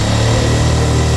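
A Gixxer motorcycle engine fitted with a Discover 150 carburetor runs close and loud with a steady, even drone and no pauses.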